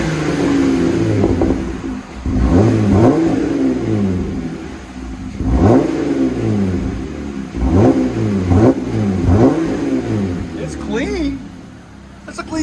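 A Jeep Gladiator's 3.6L V6, fitted with an aftermarket exhaust, revs up repeatedly in rising and falling bursts close by.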